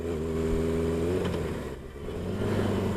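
A carbureted 1980 Kawasaki KZ1000 custom motorcycle engine on a test ride, a steady mid-pitched drone that climbs in revs, dips briefly as if shifting gear, then pulls again, close and continuous.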